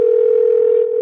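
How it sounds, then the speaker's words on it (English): A steady telephone dial tone holds at one pitch for about a second, loud and clear with no voices over it, heard while placing a call back. "let's call him back"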